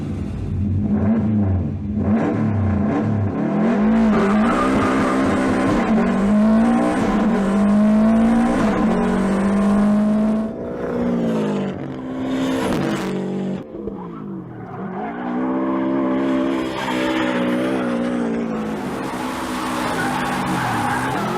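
A rally car driven by Ken Block in the first Gymkhana stunt run revs hard and shifts, with long tire squeals and skids through drifts, loud and continuous engine roar rising and falling.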